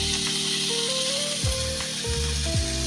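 Chopped capsicum frying in a hot pan for cabbage momos filling, a loud steady sizzle with stirring scrapes and a few brief squeaky tones, no speech.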